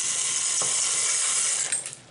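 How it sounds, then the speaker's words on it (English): Dry ziti pasta tipped into a pot of water on the stove, giving a steady close hiss and faint rattle for about two seconds, then a few light knocks as it settles. "put in our ziti here"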